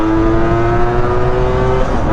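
A Yamaha ZR 125 scooter engine is held at steady high revs, loud and close, with a sustained buzzing drone and the faint whine of a bit of wind, and no voices.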